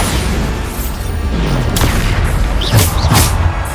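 Bombarda spell blasts in Hogwarts Legacy, a loud booming explosion with gunfire-like cracks, several heavy bursts in quick succession over continuous combat noise.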